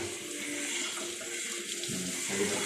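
Water trickles and splashes steadily and fairly faintly for the whole stretch, a continuous wet hiss with no clear separate drops and no voices.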